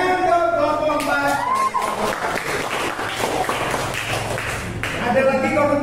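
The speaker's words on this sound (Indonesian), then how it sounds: "Tepuk tangan untuk kelompok 4" Classroom group applause for a student group after a discussion of basic needs, a dense steady clatter of clapping lasting several seconds with voices speaking over it.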